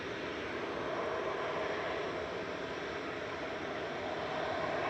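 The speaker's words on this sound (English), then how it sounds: "Look at them big engines. The reverse is open." An Etihad Boeing 777-300ER landing at Manchester Airport with reverse thrust open, a steady broad roar of big engines, even and continuous, heard from a distance with no talk.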